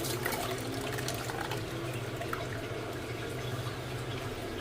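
Freshly grated coconut is squeezed by hand to press out coconut milk for homemade coconut oil, giving a constant close-up wet splashing and dribbling of liquid with no speech.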